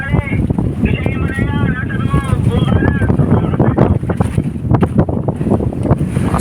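Strong habagat monsoon wind buffets the microphone with loud, gusty roar at sea on a boat, while people talk over it throughout.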